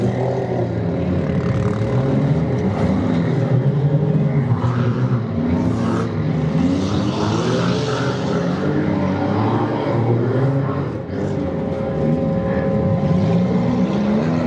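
Demolition derby cars racing on a dirt track in Ludington, Michigan during a powder puff heat, a loud, steady roar of engines that swells and churns continuously without a break.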